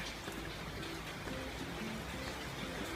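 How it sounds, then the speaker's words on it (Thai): Light rain falls steadily outdoors on a hot day, a dense, even patter of drops spread across the whole stretch, with faint brief tonal sounds in the background and no clear speech. "ฝนตก นิดๆหน่อย ๆ ก็ยังดีค่ะ"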